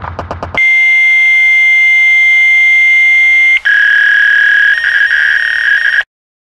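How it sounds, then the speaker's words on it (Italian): Emergency alert broadcast attention tone from a fictional Rivetanian Republic warning system: a few quick beeps, then a loud, steady two-part electronic tone holding for about five seconds with a brief break partway, alone and without talk. "Questa è una notifica di emergenza."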